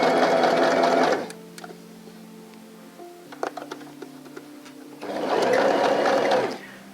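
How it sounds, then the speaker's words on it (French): A sewing machine stitches a seam on a blouse in two loud bursts, one at the start and one near the end, separated by quiet handling clicks and a low hum. "je vais piquer jusqu'à ma couture du milieu ici"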